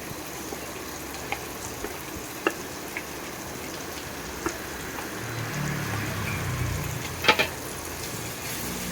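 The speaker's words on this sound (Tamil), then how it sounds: "பீட்ரூட்டின் சேர்த்து நன்றாக வதக்கிவிட்டு மூடி வைக்கவும்" Beetroot sautéing in a pan for kurma gives a steady low sizzle with scattered soft clicks and taps of stirring, then a brief louder scrape near the end.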